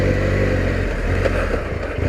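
A motorcycle engine on a forest trail, running steadily and fairly close with a rough, low rumble and slight clatter, no talking.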